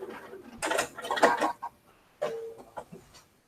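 A sewing machine stitching a quilt runs in short bursts of quick mechanical whirring, two stretches separated by a pause, close and fairly quiet.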